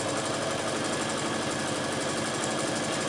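A sewing machine stitches a quilt block with a steady, close, rapid mechanical whir that runs without a break and without voices.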